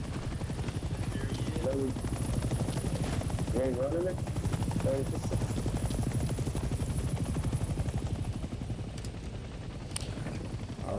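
A helicopter in the Vietnam-era shooter game Hell Let Loose thumps with a loud, continuous rotor beat up close, while someone speaks briefly over it and faint bursts sound in the background.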